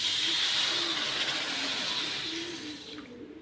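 Water is poured over a frying spice paste of garlic, candlenuts and salt. A steady steamy hiss sounds close and loud, then slowly fades.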